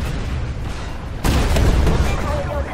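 A tank main gun fires in a video game, a sudden heavy boom that breaks over a constant rumbling battle background. A voice speaks over the mix.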